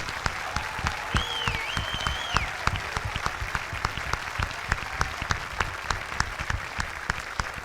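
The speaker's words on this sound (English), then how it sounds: "if you could please help me to give them one more round of applause for their amazing achievements" Audience applause at a school senior awards ceremony honouring graduating students, a dense, steady patter of many hands with a few sharper claps, continuing evenly, with a brief whistle-like tone partway through.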